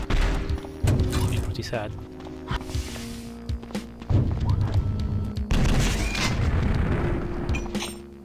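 Rocket launcher explosions in a Doom mod video game, several heavy booms going off in quick succession, close and loud, with someone talking over them.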